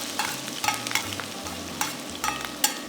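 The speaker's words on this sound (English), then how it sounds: "Then, add in the thinly sliced green onions." Thinly sliced green onions sizzling in hot oil, close and steady, with several sharp crackles and spatula scrapes punctuating a low hiss, no talking.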